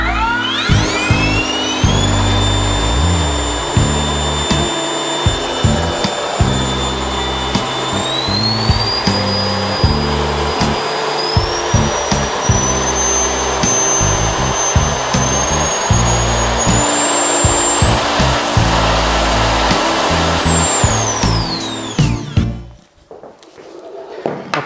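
A 3D-printed ducted eVTOL powerplant runs on a thrust test stand with nozzles turning the airflow twice through 90 degrees, a loud, steady electric fan roar with a whining tone that climbs, holds high for about twenty seconds, then spins down abruptly.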